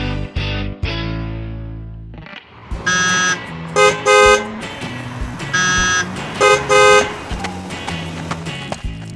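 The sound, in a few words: busy road traffic with car horns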